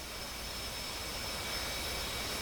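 Steady jet engine roar from a military aircraft in the DCS flight simulator, a broad, even hiss and rumble held at constant loudness throughout, with no talk over it.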